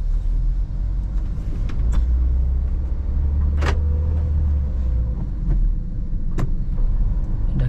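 A manual car pulls away as the clutch is released and gas is added during a driving lesson, giving a steady low engine rumble that rises slightly, with a few faint clicks over continuous road noise.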